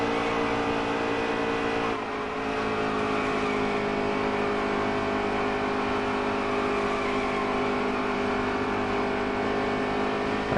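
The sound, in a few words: race truck engines in NASCAR Heat 3 video game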